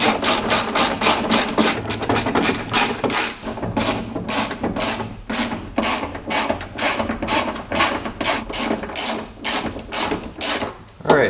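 Bolts being tightened on a Jeep window regulator with a ratchet, giving a long run of quick, close, rhythmic clicks in bursts, loud and steady with brief pauses between.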